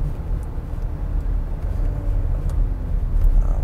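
Inside a 2023 Genesis GV70 2.5T Sport Prestige driving in Sport Plus mode, a steady low engine and road drone hums continuously, smooth and moderately loud.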